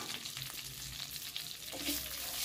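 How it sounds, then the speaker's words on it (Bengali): Torn bay leaves and whole garam masala frying in hot oil for a potato curry, a close, steady crackling sizzle that swells slightly toward the end, with no talk. "এবার ওই তেলেতে দিয়ে দিলাম দুটো টুকরো করে ছিঁড়ে নেওয়া তেজপাতা, গোটা গরম মশলা।"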